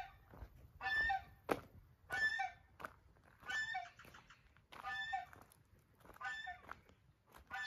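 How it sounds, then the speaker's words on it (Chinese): Chickens cluck in short, repeated bursts near cave dwellings on an apple-growing hillside, quiet and moderately close, with brief gaps between calls. "小鸡"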